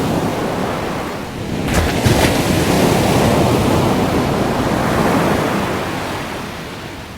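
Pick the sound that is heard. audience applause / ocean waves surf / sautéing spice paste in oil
ocean waves surf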